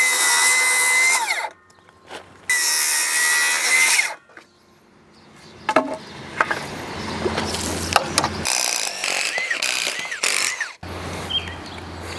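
A power saw cutting lumber for house framing whines loudly in two long bursts, then stops; clattering, knocks and handling of wood and tools follow, with a low motor hum.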